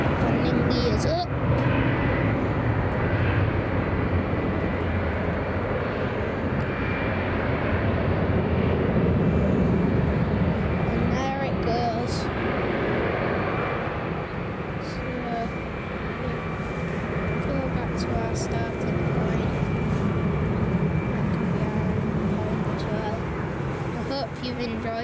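An airplane climbs away after takeoff at Manchester Airport in the early morning, its engine roar broad and steady throughout, swelling and easing slightly, with voices talking faintly underneath.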